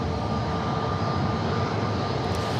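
Airliner jet engines roar steadily at San Diego airport, a loud, even, close drone with no break for the whole stretch.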